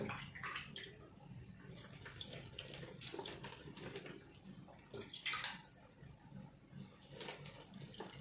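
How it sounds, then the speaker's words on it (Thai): Cooled boiled salt brine poured into a container of mustard greens being pickled, a steady splashing liquid pour with fluctuating gurgles, close and alone without talk. "ต้มสุกแล้วก็เย็นใส่น้ำเกลือต้มเข้าไปค่ะ"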